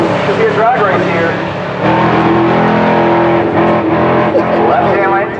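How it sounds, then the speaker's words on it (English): Cars including a twin-turbo C8 Corvette, Cadillac CTS-Vs and a Camaro accelerating hard at a drag race, a loud, continuous engine roar with shifting pitch and a brief lull, a voice speaking over it. "Should be a drag race here."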